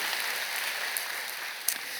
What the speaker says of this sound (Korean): 우리 큰 박수로 환영하시기를 바랍니다